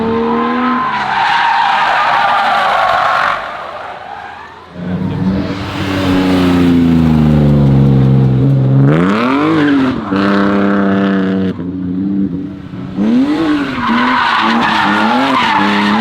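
Cars doing burnouts at a roundabout during a VW Days car event. Loud tires screech and engines rev hard, rising and falling in long, sustained squeals with short gaps between runs.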